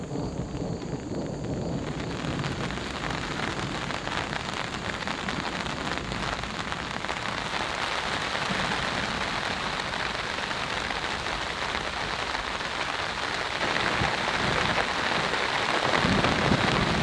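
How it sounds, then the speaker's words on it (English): Heavy rain pours steadily onto an off-grid cabin and its tarp during a strong storm, a dense continuous hiss and patter that starts abruptly after a couple of seconds and holds without letup, with no voices. "The storm is here, folks. The rain just started."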